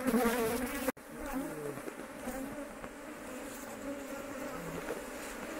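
Honeybees hum at a hive entrance in French Guiana as they bring in palm pollen, a dense steady buzz close by with a sharp click near the start and no talk.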